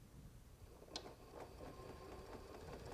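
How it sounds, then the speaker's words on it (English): A Janome sewing machine stitches through two layers of heavy leather with a faint, quick mechanical whirr and light rhythmic clicks, including one sharper tap early on. "this is how I'm going to sew this 2 layers of heavy leather"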